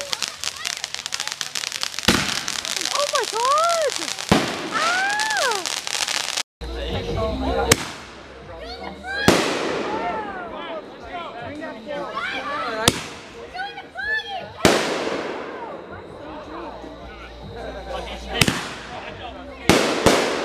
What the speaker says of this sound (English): Hey guys, you gotta start lighting mortars now.